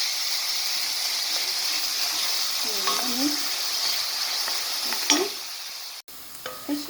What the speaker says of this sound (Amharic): አሁን ሽንኩርታችን እየተቁላላ አይደለ?